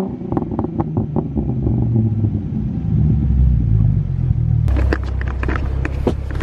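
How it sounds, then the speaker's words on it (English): Exhaust of a 2011 Ford Mustang with the 3.7 V6, droning steadily at close range and then breaking into sharper, raspy revs over the last couple of seconds, with no talk. "But hear the exhaust."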